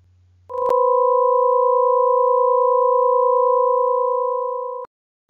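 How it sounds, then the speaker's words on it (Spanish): A dissonant minor second interval sounds as two steady pure tones held together for about four seconds, beating to produce a low 31 Hz combination tone, loud and alone with no talking. "el batido de los fundamentales en una segunda menor produce un tono de combinación de 31"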